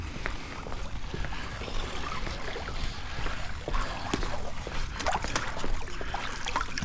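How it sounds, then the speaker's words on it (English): Pool skimmer net dragged across the surface of a green swimming pool to collect debris, with irregular water swishes, trickles and small splashes close by. "just get everything off the top of the pool. We'll just skim it real quick."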